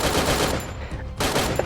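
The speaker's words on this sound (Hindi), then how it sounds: "इस घर के बाहर आते ही कोई बंदा स्नाइप कर लेता है।" Gunfire in the Free Fire mobile battle royale game as sniping breaks out: a burst of loud, sharp reports with a short lull in the middle, then more shots close by.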